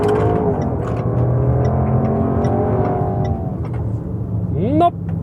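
A Range Rover Sport V8 accelerates from inside the cabin, a loud steady engine drone with rising tones, heard under someone talking, ending in a brief quick rising whine.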